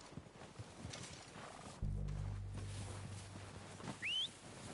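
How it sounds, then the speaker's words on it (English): Horses arrive in the Red Dead Redemption 2 video game: a neigh and scattered hoof clops sound over low rumbling ambience, and a short high whinny comes near the end. "They're coming down with the horses."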